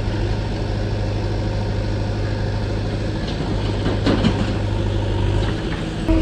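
Steady low engine drone of a railway inspection engine passing at Akbarpur Junction, a continuous near rumble with a few faint clanks and scrapes, no talking.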